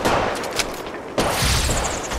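Rapid, dense bursts of gunfire crackle in a battle royale match of Apex Legends Mobile, loud and continuous, with a heavier shot breaking in partway through.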